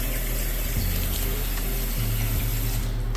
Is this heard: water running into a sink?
yes